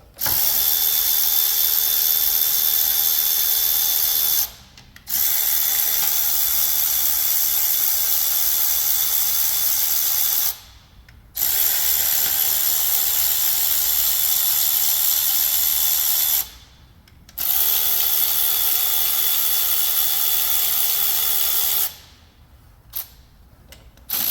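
Air or power ratchet zipping bolts out of an Ecotec engine valve cover, a loud, high, whirring rattle in long bursts of several seconds, separated by short quiet gaps, close up with no talk.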